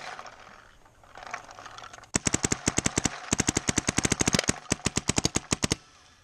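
A Mini GS paintball marker with an old hopper firing in rapid bursts, dozens of sharp snapping shots in quick strings with brief pauses between them, close and loud after a quiet start.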